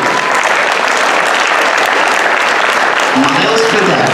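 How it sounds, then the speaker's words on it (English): Audience applause at a 2019 Veterans Day ceremony: dense, steady clapping from a large crowd that stays loud and even for the whole stretch. "Let's give a round of applause to Eric and Matt."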